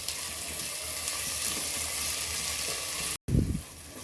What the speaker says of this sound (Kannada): ಇದನ್ನು ಕೂಡ ಸ್ವಲ್ಪ ನಾವು ಫ್ರೈ ಮಾಡ್ಕೋಬೇಕು ಈ ಎಣ್ಣೆ ಜೊತೆ.